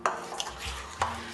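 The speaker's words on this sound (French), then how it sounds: "nous bien mélangeons nos levures avec un petit peu de farine et de l'eau" Yeast being mixed with flour and water in a bowl, a couple of light clinks of a utensil against the bowl and a soft stirring scrape, faint and close.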